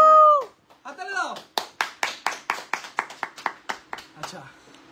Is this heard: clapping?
yes